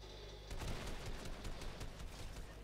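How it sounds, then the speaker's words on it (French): Rapid bursts of gunfire in the video game Fortnite, a dense, continuous volley of shots close by that starts abruptly and keeps going without pause. "Ça tire où, ça tire où, ça tire où?"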